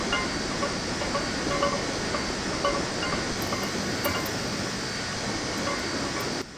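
A Big Boy steam locomotive hauls a heavy freight train in the video game Train Sim Classic. It makes a loud, steady, continuous rumble with hissing and faint rail clatter, and no one talks.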